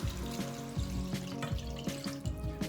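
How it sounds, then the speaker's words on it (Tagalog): Water pours steadily into a cooking pot holding pork and tomatoes for sinigang, a close, gurgling splash with small bubbling pulses, fairly quiet and without talk. "Lalagay ako ng 1 litro na tubig."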